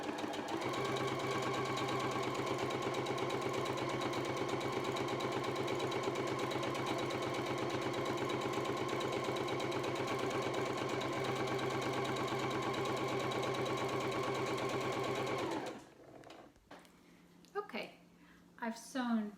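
A sewing machine stitches a seam on a fabric tote bag, running continuously with a fast, steady mechanical chatter for about fifteen seconds before stopping, after which a voice speaks.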